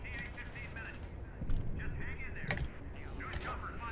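Heavy machine gun fire in Left 4 Dead 2, rattling bursts and sharp shots mixed with other game noise while people talk over it.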